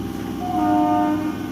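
An Up Bandel–Naihati local train at Hooghly Ghat railway station sounds a loud, steady horn blast lasting over a second, with the rumble of the passing train underneath.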